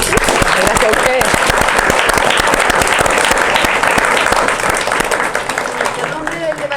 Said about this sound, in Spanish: vamos a dar por finalizada esta extraordinaria conversación con un aplauso